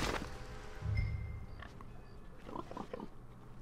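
Pigs in the Red Dead Redemption 2 video game, giving a few low grunts and snorts close by amid faint farmyard ambience, with no talking.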